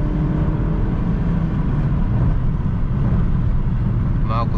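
A 2019 Suzuki Vitara 1.4 Turbo engine roars steadily at high revs in sport mode, a loud, constant drone heard from inside the vehicle.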